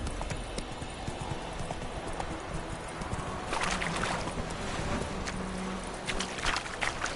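A horse galloping in The Witcher video game, its hooves clip-clopping in a steady, driving rhythm throughout, with wind and ambient noise around it and no voices.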